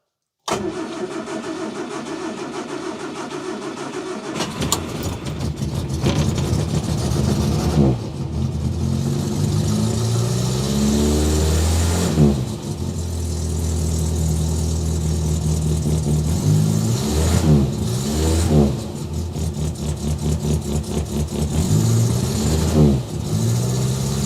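A 1968 Morris Minor with a stuck choke cranks and fires, then its small engine revs loudly several times and settles between blips, close and alone after a short stretch of steady noise.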